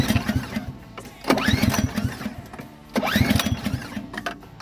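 A snowblower engine with a no-start fault is cranked twice in two rising, whirring pulls separated by a short pause. It catches briefly but never starts, and no one talks.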